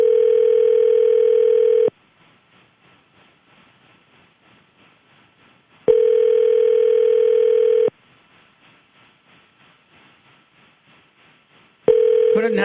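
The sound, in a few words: telephone call ringing out on radio show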